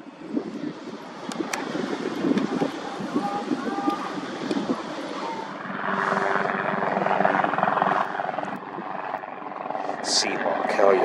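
A Seahawk helicopter passes over the San Diego waterfront near aircraft carriers and yachts, its rotor drone steady and swelling a little toward the end, with people talking close by throughout.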